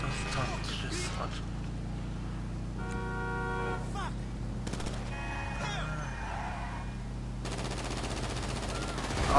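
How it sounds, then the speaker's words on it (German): Video game gunfire in GTA, bursts of automatic shots mixed with car horn toots and engine noise, sitting under a steady bed of game sound while a person talks over it. "hör doch auf zu schiessen, du Holzkopf"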